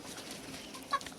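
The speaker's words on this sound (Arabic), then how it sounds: "وهنا الفراخ اهي بقى بسيبها كده على السطح شوية" Chickens on a rooftop where poultry is kept at home, giving a single brief, faint cluck over a quiet background.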